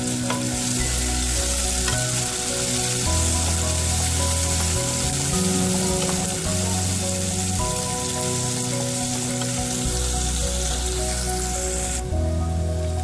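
Chopped onion pieces frying in hot oil until golden, with a loud, steady sizzle that runs the whole time and stirring scrapes mixed in, and no voices.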